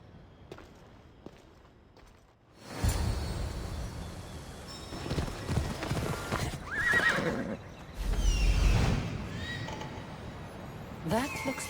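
A horse in Assassin's Creed Odyssey whinnies loudly in two bursts, with hoof clops and a voice talking between them over quiet ambience.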